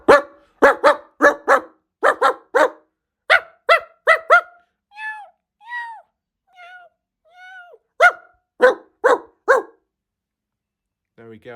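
Several dogs bark in rapid bursts of sharp, close, loud barks, broken midway by softer cat-like meows before the barking resumes.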